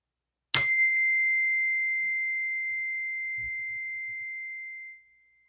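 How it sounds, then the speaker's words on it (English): A single chime is struck once and rings out clearly with a bright, pure tone that slowly decays over several seconds in a quiet room, with faint low rustling beneath it. "I'm going to do the chime too"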